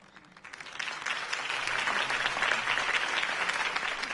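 A crowd applauds after a campaign speech, with dense clapping that swells within the first second and holds steady and loud throughout.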